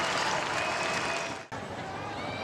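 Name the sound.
crowd cheering and applauding at women's football match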